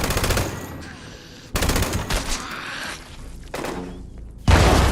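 Gunfire aimed at the player in Fallout 76: loud bursts of rapid machine-gun shots and single gunshots, separated by short lulls, with one heavy burst at the end.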